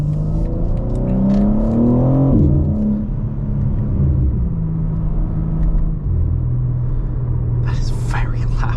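A 2023 BMW M4 Competition xDrive engine revs up and then settles to a loud, deep rumble while driving, with a voice speaking briefly over the engine noise.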